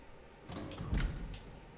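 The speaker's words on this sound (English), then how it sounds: "Door unlocked." A door unlocking and swinging open in the horror game Tormented Souls 2, a soft heavy creak-and-thud of moderate level heard alone over quiet ambience.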